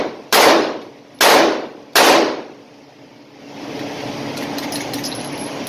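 Three sharp gunshots from a Taurus multi-caliber handgun ring out close and loud in quick succession, each decaying briefly, followed by quieter rustling background.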